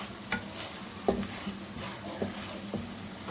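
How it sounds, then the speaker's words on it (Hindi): Chicken frying in a pan for chicken macaroni gives a steady, low sizzle, broken by a few soft scrapes and knocks as it is stirred. No voices are heard. "चिकन को मैंने अच्छी तरह से फ्राई कर लिया"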